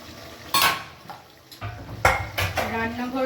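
A plate is wiped and moved around a kitchen, with several sharp clinks and clatters of crockery and cutlery spread unevenly across a few seconds, close by and moderately loud.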